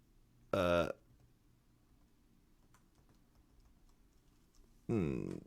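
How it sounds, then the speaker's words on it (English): Light, sparse tapping on a computer keyboard clicks faintly between two short bursts of talking, quiet and close. "Because I'm typing."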